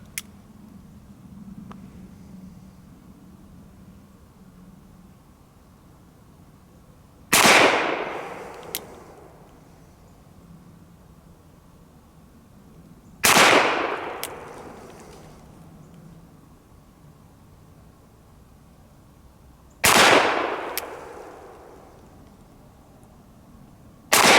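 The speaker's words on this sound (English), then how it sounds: "let's try the Winchester 148 grain hollow base wad cutters again and see if they go off." Three loud, sharp gunshots from an 1851 Navy revolver fitted with a cartridge conversion cylinder and firing hollow base wadcutters, spaced about six seconds apart outdoors, each followed by a ringing decay.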